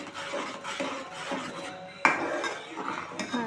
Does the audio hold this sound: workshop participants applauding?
no